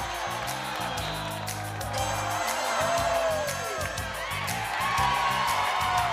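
Game-show studio crowd at The Price is Right yelling and cheering continuously, loud and close, with whoops rising over background music and hints of a host's voice.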